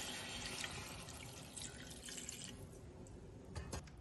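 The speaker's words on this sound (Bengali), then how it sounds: "এবার দেবো জল দিয়ে দিচ্ছি" Water is poured into a pan of tangra fish curry with bottle gourd and spices: a steady, close splashing and gushing stream that continues throughout, with a few faint clinks near the end.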